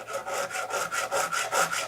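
A $2 hand file sharpens a chainsaw chain in steady, rhythmic rasping strokes, about nine in under two seconds, close and clear with no talk.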